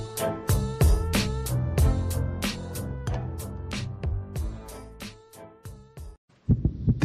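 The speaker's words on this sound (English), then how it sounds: "This is the sound of a racing heart." A young child's racing heartbeat thumps in quick, regular double beats, close and alone, with no talking over it.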